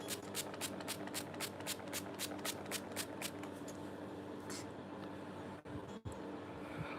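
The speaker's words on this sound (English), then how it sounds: "I'm just spray it on my face." Quick repeated spritzes of Heritage Store Rose Water facial mist sprayed onto the face, a series of short, soft hissing bursts close by in a quiet room, with no talking.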